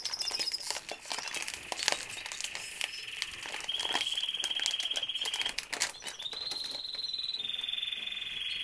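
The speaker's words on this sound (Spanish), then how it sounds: "Vamos a destapar la bolsita." A plastic bag of Breedmax canary breeding feed is handled and opened, with steady crinkling and rustling close up and thin whistling tones above.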